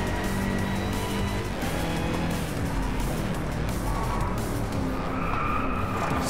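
Car drifting sideways in the Driveclub racing game with a roaring American V8 engine, steady loud tire skidding and squeal running continuously under the revving motor.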